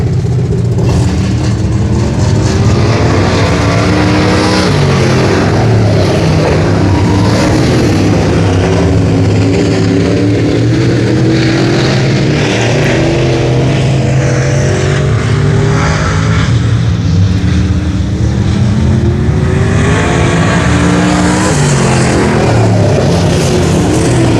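Race cars roar around the Brownstown Speedway track in a continuous loud engine drone that swells and fades as the cars pass close by, with no voices over it.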